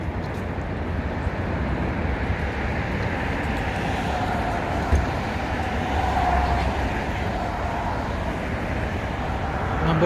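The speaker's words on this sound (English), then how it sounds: "And then you see the train all the way in the back." An elevated train rumbles past in the distance in downtown Chicago along Michigan Avenue, a steady low roar mixed with city traffic noise and faint voices nearby.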